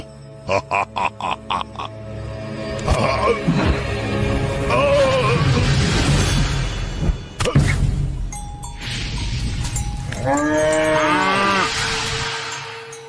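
Cattle moo loudly several times, long drawn-out calls, after a burst of rapid rhythmic clatter and a sharp crash in between.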